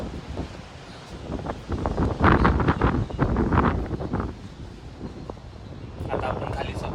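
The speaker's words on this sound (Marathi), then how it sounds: "वारं खूप आहे, भयानक वारं आहे" Strong wind roars and gusts around a large dome, loud buffeting that swells in the middle and blasts across the microphone, with voices talking underneath.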